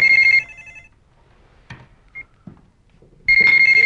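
A mobile phone rings loudly in short bursts of bright electronic tones at the start and end, with a quieter stretch of faint household movement between them.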